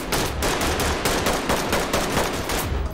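Gunfire in Ready or Not rattles in fast, loud, continuous bursts, a dense automatic barrage with no talk over it.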